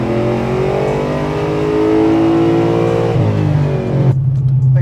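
A loud Chevrolet Impala SS engine, a nitrous-fed LSX 454 V8, roars under heavy throttle, holding a sustained rev that builds, then shifts down abruptly near the end.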